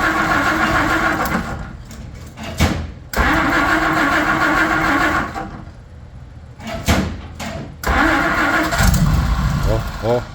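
An old Bombardier snow vehicle engine cranks and catches in several loud, close bursts that start and cut out, then settles into a rough idle, while people talk and exclaim around it.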